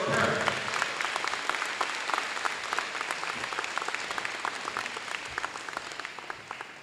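A crowd of students and guests at a Harrison Park Challenge Scholars gathering applauds the parents, a dense, steady wash of many clapping hands that fades slightly over several seconds, with no talking.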